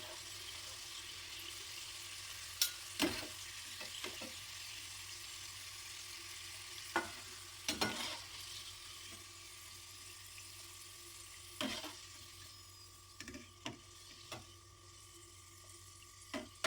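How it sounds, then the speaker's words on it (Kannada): Potatoes frying in oil over low heat, a steady soft sizzle running throughout with occasional louder crackles and stirring clinks, close by with no voices. "ನಾವು ಆಲೂಗಡ್ಡೆನ ಎಣ್ಣೆಲಿ ಕರಿಯುವಾಗ"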